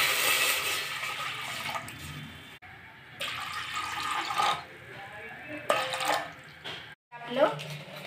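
Water from a tap splashes into a metal pot for dhokla batter in a home kitchen, an uneven gushing pour that stops and restarts several times, with a voice heard faintly in places.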